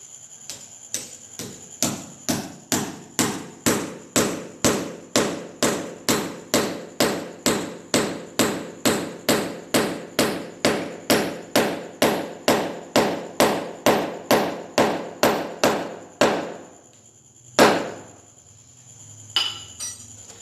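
Hammer blows driving a rawl bolt into a wall, roughly thirty sharp metallic strikes in a fast, even rhythm, close and loud. They stop, then come a single heavier knock and a faint tap.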